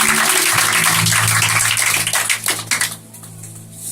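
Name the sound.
congregation applauding in church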